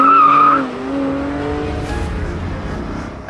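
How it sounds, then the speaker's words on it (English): A Porsche 718 Spyder roadster drives past close and loud, its engine note falling as it goes, with tyre and road noise trailing behind. "And this is the Porsche 718 Spyder."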